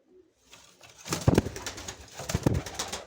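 Short-beaked pigeons coo softly nearby amid rustling and flapping, with a few low burbling calls.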